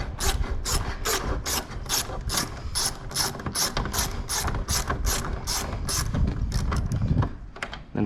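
A ratchet wrench loosens a 13mm headlight bolt on a 2022 Ford F-350 King Ranch, giving a steady run of quick, close, loud clicks across the whole stretch with no talking.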